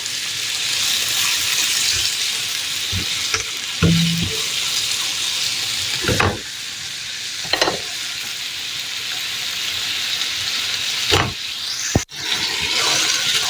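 Goat liver and potato frying in a pan give a steady, close sizzle that runs throughout, broken by a few sharp knocks and clinks of a utensil against the pan.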